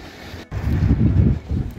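Strong gusty wind buffeting an outdoor construction site for a workshop, roaring low and steady close to the microphone with a brief dropout, then surging again in waves, with no voices.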